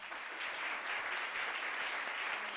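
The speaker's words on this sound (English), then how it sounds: "big round of applause again for the winner" An awards audience gives a winner sustained applause, a steady wash of many hands clapping, fairly faint and distant, with no talk.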